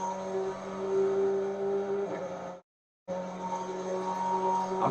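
Race car engine in a driving simulator played on a Fanatec DD2 wheel, a steady, droning engine tone held at high revs, broken by a half-second gap of silence before the same note returns.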